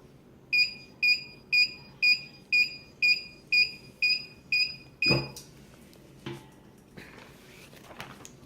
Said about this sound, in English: The beeping's a little annoying